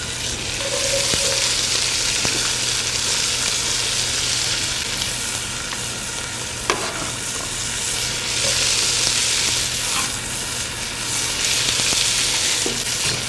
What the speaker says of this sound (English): I'm going to add the onion.